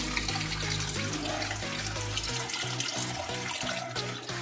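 Dirty water drains out of a home fish tank in a steady, rushing gush with gurgling, close and continuous throughout.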